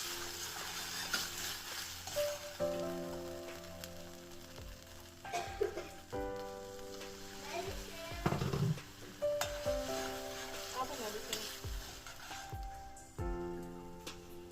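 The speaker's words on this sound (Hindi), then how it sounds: "थोड़ा-सा केचअप डालूँगी और एक फ्राई जैसा कर लूँगी" Roasted onion fries with chili sauce, soy sauce and ketchup in a pan, giving a soft sizzle under clinking utensils, scraping stirs and scattered pot knocks over fourteen seconds.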